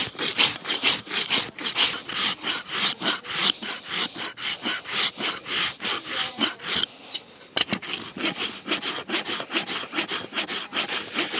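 A farrier rasping a horse's hoof, trimming down high heels: rhythmic, close scraping strokes repeating about twice per second, with a brief pause midway, no voices.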